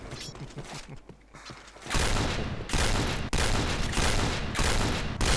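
Rapid gunfire in the first-person shooter Point Blank, a loud, sustained burst of shots after a quieter mechanical stretch, with dense continuous firing up close.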